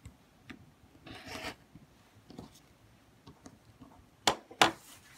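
Rotary cutter slicing fabric along a ruler while trimming two sides of a curved-seam arch quilt block, with soft rubbing strokes and two sharp, close cuts near the end.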